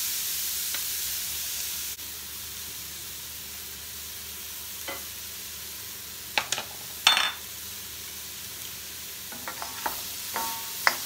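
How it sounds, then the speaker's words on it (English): Vegetable mince frying in a smoking hot pan seasoned with pepper and turmeric gives a soft, steady sizzle broken by a few sharp scrapes and clicks of stirring, with no voices. "I'm going to put my vegetable mince in to fry"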